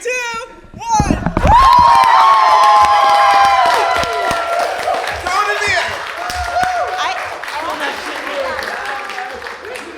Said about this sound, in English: Can we get one like really, really big, like huge round of applause, please?